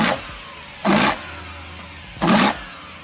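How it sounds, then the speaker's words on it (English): BMW E92 M3 V8 with open individual throttle bodies, blipped twice in quick succession, each rev a short loud induction roar over a steady idle. "Here is an E92 M3 with open ITBs."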